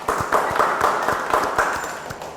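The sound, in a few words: applause for group 1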